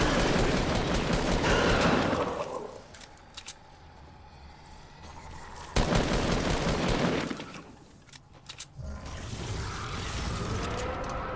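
Bursts of gunfire in Fortnite, with dense rapid shots in two loud volleys and a few scattered single shots between them, all fairly close and with no talk.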